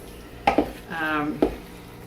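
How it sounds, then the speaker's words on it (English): Ground beef crumbles for Sloppy Joes stirred in a pan with a spoon, giving a few distinct scraping clinks against the pan and a soft sizzle, close and fairly loud. "stir this around so that it's in the size crumbles that you want Sloppy Joes to be in"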